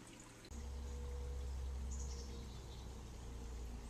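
Eljer Waco toilet bowl flushing outdoors, a sudden rush of rinse water that starts after a brief quiet moment and then pours and swirls steadily and loudly to the end, with faint birdsong in the background.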